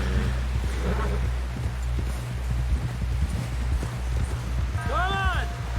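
Horse hooves clip-clopping at a steady walking pace in Red Dead Redemption II, a continuous rhythmic thudding over low rumble with faint water, and a short voice cry near the end.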